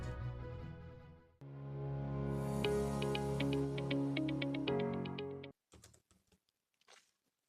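Typing on a computer keyboard: a short, sparse burst of light clicking keystrokes near the end, following a long sustained musical tone.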